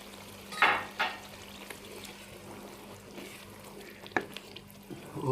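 Yogurt stirring and frying in cooked masala for reshmi fish korma, a soft sizzle with a few scraping stirs of a spoon in the pan, close but fairly quiet, with no talking.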